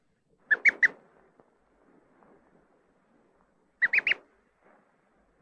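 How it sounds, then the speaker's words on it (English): A duckling peeps calmly beside its toy, giving two short bursts of three soft, quick chirps a few seconds apart, separated by near silence. "When it returns, so does calm peeping."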